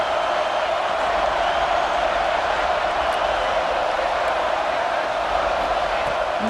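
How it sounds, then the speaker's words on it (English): Roaring stadium crowd in a college football video game, a steady, dense wall of cheering noise building during a red zone defensive stand, loud and continuous throughout without a break. "And here comes the noise. This crowd is trying to inspire this defense to make a big red zone stop."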